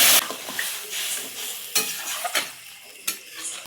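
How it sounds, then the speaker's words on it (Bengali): Curry frying in a pan, close and loud, with sharp bursts of hissing and spattering as water hits the hot oil, plus the clink of a utensil against the pan, no talk. "এবারে জল ঢেলে দেবো।"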